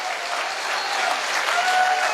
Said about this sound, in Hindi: तो एक बार जोरदार तालियां होनी चाहिए।